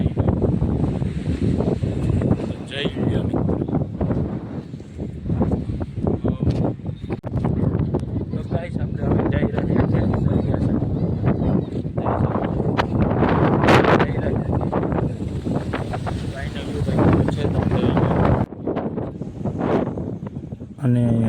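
Wind buffets the microphone in a loud, constant rumble throughout at a seaside chowpatty, with people speaking underneath and faint surf-like noise.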